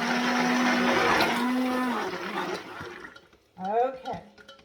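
A blender mixing soap batter runs loudly with a steady whirring drone for about two seconds, then winds down; a voice speaks briefly afterward.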